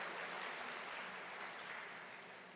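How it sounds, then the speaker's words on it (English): Steady applause from an audience at the 2024 Stockton State of the City event, a dense wash of clapping that holds for a few seconds and then tapers slightly. "Let's give a big round of applause to Papa Pablo's one more time"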